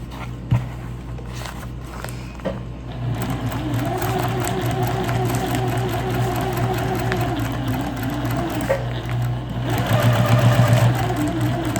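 A sewing machine stitches a fabric tray in a long, steady, close run with a humming motor and rapid needle rhythm, preceded by a few clicks and handling knocks.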